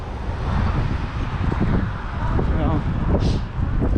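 Gusty, chilly wind buffets the microphone outdoors in Marble Falls, Texas, with a heavy low rumble that rises and falls, with muffled voices and faint street noise underneath.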